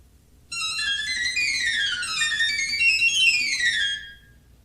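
High, bright piccolo pipes of an 89-key Gavioli fairground organ play a quick descending and rising melody, clear and alone after a brief silent start.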